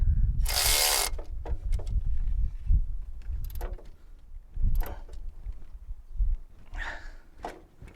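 Ratchet clicks and metallic tool work while tightening alternator bolts on a Toyota Celica, with a 14 mm socket, a loud broadband burst early on, then scattered clicks and clanks.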